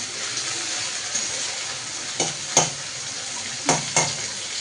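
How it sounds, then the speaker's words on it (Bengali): Onions fry in a pan for a mutton curry, giving a steady oily sizzle close by, broken by a few sharp clinks and scrapes from stirring. "চলো পেঁয়াজটা আমার ভাজা হতে থাকে"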